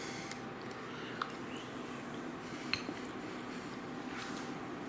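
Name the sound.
stirring cheese into chili in a pot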